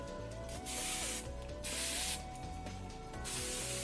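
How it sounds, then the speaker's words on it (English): Three loud hissing bursts of hairspray, each lasting about half a second, spaced evenly over a soft musical background. "I'm gonna spray them one more time with hairspray"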